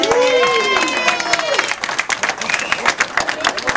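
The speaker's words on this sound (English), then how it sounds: "Let's give a round of applause." Retirement program audience applauding in a dense burst of clapping, fading a little toward the end, with a few voices and whoops over it.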